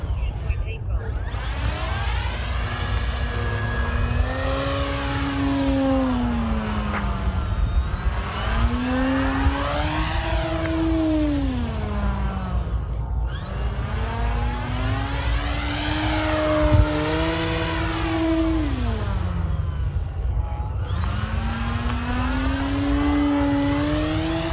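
An E-flite Turbo Timber RC plane's electric motor whines through repeated rising and falling pitch sweeps as it passes and circles overhead, with a steady background hiss and a voice talking at times.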